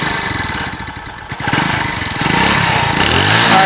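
A motorcycle engine running close by, a loud, steady mid-pitched throb that rises slightly as it revs and carries on throughout.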